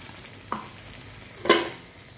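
Whisked sour yogurt poured into spiced potato masala frying in oil for dum aloo, two brief bursts of sizzling, the second louder and hissier, over a quiet background with no voices.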